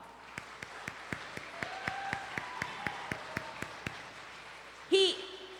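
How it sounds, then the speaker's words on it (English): Applause at a junior/senior high school spring concert for a student, heard as a steady patter of clapping with distinct individual claps spaced through it, moderately near, ending in a brief louder burst near the end. "Give him a round of applause"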